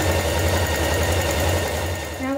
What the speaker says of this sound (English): Now sew a line of ease stitching around the top of your sleeve.